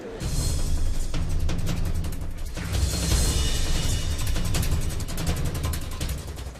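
A tram rolls past on a Bordeaux street with a loud, steady low rumble and a hiss overhead, plus a rapid series of rhythmic rail clicks as it goes by.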